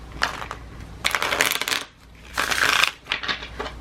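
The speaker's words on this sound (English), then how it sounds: "Spirit said to shuffle the other way." Tarot cards being shuffled by hand during a reading, crisp riffling bursts in a few separate rounds with short pauses between them, close and moderately loud.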